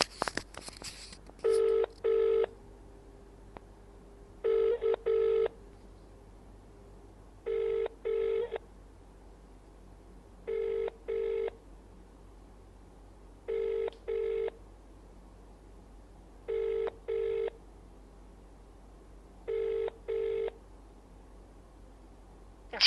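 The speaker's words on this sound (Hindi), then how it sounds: "रिंग जा रहा है" An outgoing phone call rings out through the handset, paired double ring tones repeating at even intervals about every three seconds over a faint hiss, with no one answering.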